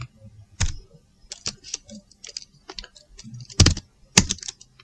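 A terminal command typed on a computer keyboard in Kali Linux, with sparse, irregular key clicks and a few louder keystrokes, close up and with no talking.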